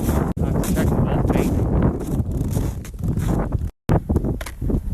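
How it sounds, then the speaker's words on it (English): Strong gusting wind buffets the microphone on a lake in western Ontario, a loud, rough roar that surges and drops, with brief dropouts. "I'm on the lake. It's just gusting."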